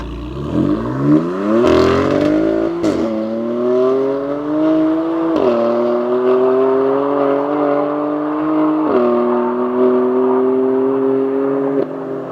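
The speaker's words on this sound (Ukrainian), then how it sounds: "я сідаю сам за кермо і їду" A BMW M4 accelerates hard from 100 to 200 km/h, its engine note rising steadily through the revs with several sharp gear shifts briefly dropping the pitch, loud and close with no talk.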